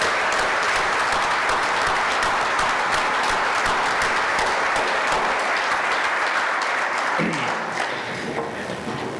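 Sustained applause from a banquet audience at an awards and installation dinner, a dense wall of clapping that holds steady for about seven seconds and then thins as it tapers off near the end.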